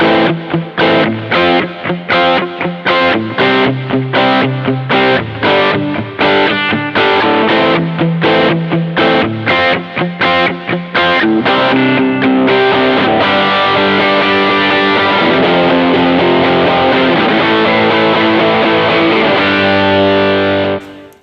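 Electric guitar with natural reverb, set up as a worship tone, plays a run of rhythmic picked and strummed chords, then settles into one long sustained chord that swells and rings out loudly before ending.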